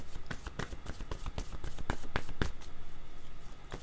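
Tarot cards being shuffled by hand during a card reading, a quick run of crisp papery riffles and slaps in irregular bursts, close and fairly loud, with no voices.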